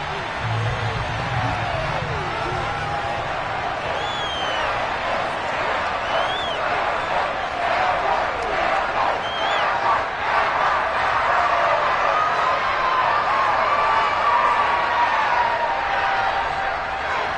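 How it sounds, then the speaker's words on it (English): A stadium crowd at an American football game keeps up a steady, loud roar of shouts and cheers as a replay is watched, with a commentator talking over the noise throughout. "Plenty of shouts from this crowd as they watch the replay."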